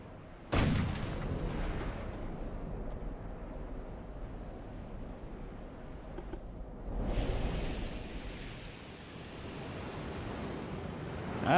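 Warship guns fire in the naval battle game Ultimate Admiral: Dreadnoughts: a loud, sharp blast followed by a long rumbling roll, then a second heavy boom that swells and lingers over a steady wash of sea and wind noise.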